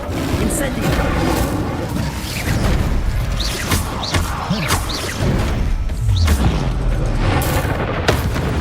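The Incendio fire spell is cast repeatedly in Hogwarts Legacy, with loud booming blasts, thuds and crackling impacts layered over dense, continuous combat noise and whooshing effects.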